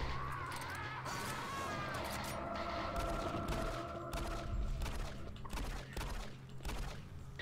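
Bursts of gunfire ring out in the video game DOOM 3, faint and mixed into a low droning game soundtrack with a few sharp transients.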